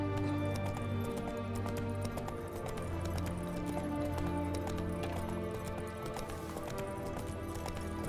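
Horse hooves clop in a steady galloping rhythm in The Witcher 3: Wild Hunt, fairly close and continuous, over soft background game ambience.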